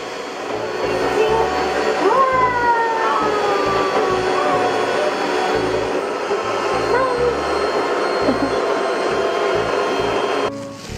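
An electric mixer whirs steadily through butter for a tart dough in a home kitchen, a close continuous drone, while a voice talks intermittently over it.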